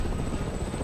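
A helicopter in the Resident Evil 6 video game, a steady, dense rotor roar with fast rhythmic chopping, loud and constant throughout.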